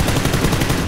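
Dense, continuous gunfire in the video game PUBG, rapid overlapping shots at steady loudness with no pauses, suggesting close-range automatic weapons fire throughout.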